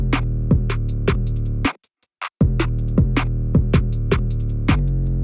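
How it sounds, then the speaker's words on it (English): In an FL Studio remake of a track, a percussion clap snaps in a steady groove over a full, loud beat, dropping out briefly to a few isolated hits before the pattern returns. "we also have the percussion clap, which is a clap which is being used as a percussion."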